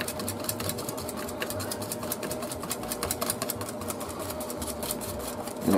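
Eggs whisked into a well of flour for Beef Wellington pastry, a rapid, continuous clicking and scraping of the whisk against the bowl, close and steady with no talk.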